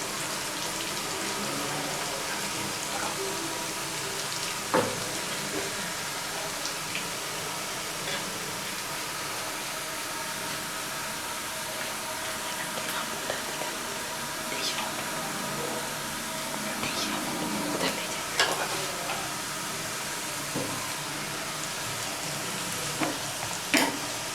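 Onions frying in a pan for pea lentil daal (mutter ki daal), a steady broadband sizzle with occasional scrapes and clicks of stirring throughout, at moderate level with no talk.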